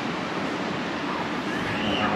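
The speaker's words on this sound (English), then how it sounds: "There's a balcony here on the side, and that is the ocean." Ocean surf washes steadily below a hotel balcony in João Pessoa, Brazil, a broad, even hiss of waves with no distinct breaks, moderately loud.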